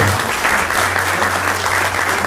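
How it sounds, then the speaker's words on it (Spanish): Loud, steady applause fills a rock anniversary celebration at a museum event in Villa Ángela, dense clapping from a crowd throughout with a low hum beneath. "Fuerte, fuerte, fuerte el aplauso"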